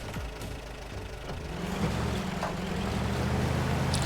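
The A-3151 truck's engine runs steadily at close range, a low rumbling idle that thickens slightly partway through, with no talk over it.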